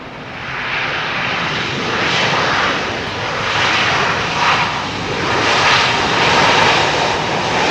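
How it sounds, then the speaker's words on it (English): A loud Boeing 737 jet airliner roars past nearby while landing at London Heathrow runway 27R, its engine noise swelling and rumbling steadily throughout. "Oh, nice 737."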